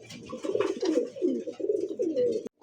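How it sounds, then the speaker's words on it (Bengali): A pair of Jhorna satin pigeons coo close by in repeated low, rolling phrases, a steady run of calls that cuts off abruptly near the end. "আগুন ঝর্ণা একটা জোড়া কবুতর"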